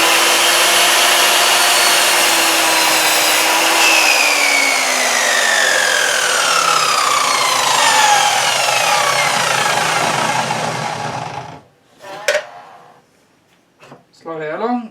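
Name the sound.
miter saw cutting small pieces off wood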